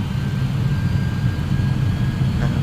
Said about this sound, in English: And we have takeoff clamp. And listen to those engines.